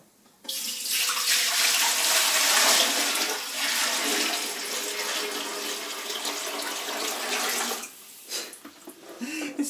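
Tap water pours steadily into a large 18-liter pot being filled for fabric dyeing, a loud continuous splashing rush that runs for most of the span and trails off near the end.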